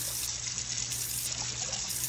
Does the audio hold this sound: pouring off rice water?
yes